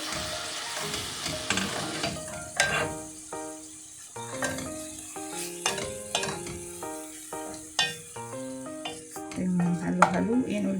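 Pork frying in a pan while being stirred, with a steady sizzle broken by repeated scraping and clinking of a utensil against the pan at close range.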